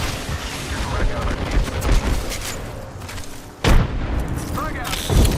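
Frag grenade explosions and gunfire in Apex Legends, with deep booms and heavy blasts rolling under busy game noise, one sharp detonation standing out after a brief lull, and players talking over the action.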